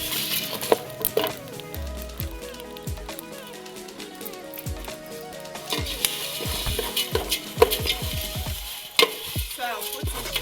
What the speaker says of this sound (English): I'll fry it until it turns golden brown